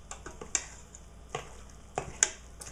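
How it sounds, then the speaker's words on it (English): A spoon stirs mac and cheese noodles in an Instant Pot set to sauté, giving a few sharp taps and scrapes against the pot over a faint, low sizzle. "So just stir it up, break up the noodles."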